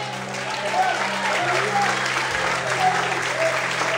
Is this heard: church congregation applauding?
yes